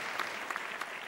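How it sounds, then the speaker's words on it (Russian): An audience claps steadily at an accordion and bayan festival concert in Almaty, a brief dense burst of applause filling the hall. "Ваши аплодисменты."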